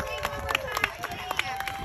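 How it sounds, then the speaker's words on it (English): A crowd claps at an outdoor awards ceremony after a Tunnel to Towers charity run/walk in Biloxi, with scattered, uneven claps and chatter mixed with talk, brief and moderately loud. "So y'all give her one more round of applause."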